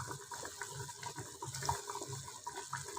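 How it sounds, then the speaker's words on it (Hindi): Water starting to boil in a pot for beef kofta gives a soft, continuous bubbling and hissing at close range, with no one talking. "तो अब पानी बॉयल आना शुरू हो गया।"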